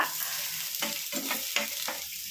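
Onion goes into a hot pan for a soursop thoran and sizzles steadily up close, broken by a few short stirring scrapes.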